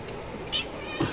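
Pet cat meowing indoors, a couple of short, fairly quiet mews close by in a room with a steady background hum.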